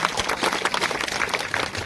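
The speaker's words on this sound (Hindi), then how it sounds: "तालियां बजा दो इनके लिए।" An audience claps steadily at a government senior secondary school's annual function in Kundanpura. The dense, even applause continues without a break and has no speech over it.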